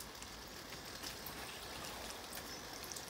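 Water from a newly installed self-watering system trickles and gurgles in a faint, continuous stream, quiet and steady with small splashy flickers and no voices.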